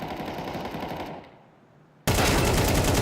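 Gunfire in the video game Counter-Strike during a professional esports match, a loud rapid burst of shots that drops off to quiet, then a second heavy burst cutting in abruptly.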